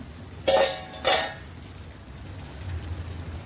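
A lid comes off a pan of masala-stuffed bitter gourd frying on the stove, two sharp close metallic clanks followed by a faint low sizzle, no speech.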